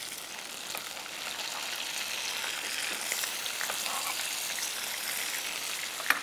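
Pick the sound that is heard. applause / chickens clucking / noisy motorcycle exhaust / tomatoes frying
tomatoes frying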